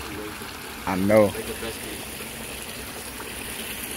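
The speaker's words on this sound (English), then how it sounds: "That waterfall is so soothing." A small waterfall splashes steadily into a fish pond at an exotic animal ranch, a soft continuous rushing and trickling wash heard close by, briefly interrupted by a short spoken remark.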